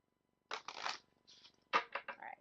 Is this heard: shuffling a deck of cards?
yes